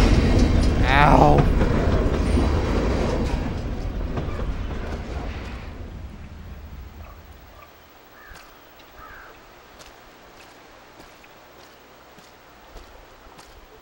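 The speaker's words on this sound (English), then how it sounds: "The train is so loud." A loud train passes in the video game Life is Strange, a heavy rumbling roar that fades over several seconds into quiet ambience, with a brief exclamation from a player.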